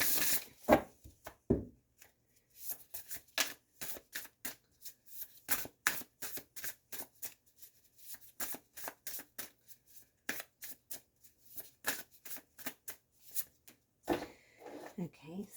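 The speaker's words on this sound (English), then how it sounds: "So I'm going to pull on abundance cards," Abundance oracle cards being shuffled by hand in quick bursts of crisp riffling and slapping, close and clear, with short pauses between runs and brief speech at the end.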